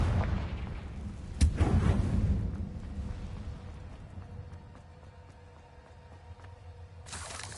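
A Confringo fire spell bursts in Hogwarts Legacy with one sharp, loud blast that rumbles and fades slowly, then a second sudden burst near the end.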